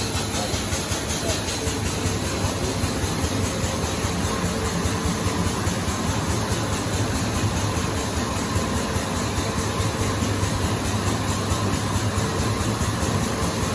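Chip removal machine drying coolant-soaked contamination in its basket, giving a continuous, loud broadband suction roar with a steady mechanical hum and no change in level throughout.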